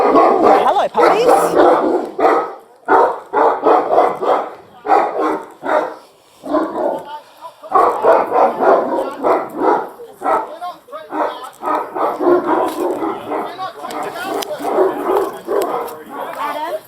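Puppies bark and yip in bursts, loud and close, while people talk over and between the barks outdoors near a gate.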